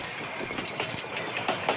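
A rail car in the video game Heaven Dust 2 rolls along the tracks with a steady, rushing rattle and soft rhythmic clacks, faint and continuous with no talking.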